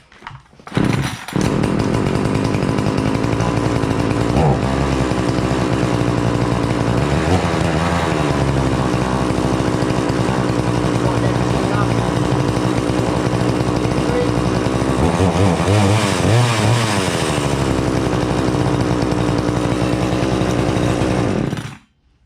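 A chainsaw engine cold-starts with a sharp pull, then roars continuously at close range, revving up and down before cutting off abruptly.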